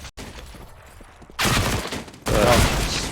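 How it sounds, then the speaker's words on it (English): MP9 submachine gun fire in a Counter-Strike match on the Train map, starting with a short quiet stretch, then two loud sustained bursts of rapid gunfire, close and dense. "JKS getting very aggressive, tapping away with that MP9"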